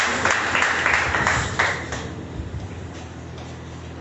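An audience at a school debate competition applauds as a debater walks onto the stage, a burst of clapping that fades over a few seconds into quieter room sound.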